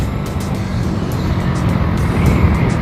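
A worn Honda Wave 125S motorcycle engine in fourth gear roars steadily at high revs, a continuous loud drone with slight rises, close by and without talk.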